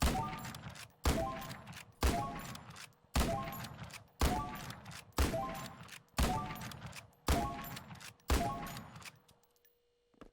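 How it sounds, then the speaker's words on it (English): Nine evenly spaced, sharp gunshots ring out one after another at a shooting range in the blocky building game Brickadia, each a loud crack with a short decaying tail, the sequence ending in quiet. "This is the shooting range. They have cool weapons here. You can, like, shoot stuff."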